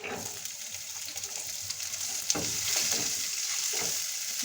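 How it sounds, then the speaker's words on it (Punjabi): Onion frying with garlic and ginger in a pan for chana dal khichdi gives a steady, close sizzle, with a few soft stirring scrapes and clinks and no talking. "ਲਸਣ ਤੇ ਅਦਰਕ ਨੂੰ ਇੰਨਾ ਕਿ ਆਪਾਂ ਭੁੰਨਾਂਗੇ ਹੁਣ ਇਹਦੇ ਵਿੱਚ ਆਪਾਂ ਪਿਆਜ਼ ਪਾਉਂਦੇ ਹਾਂ"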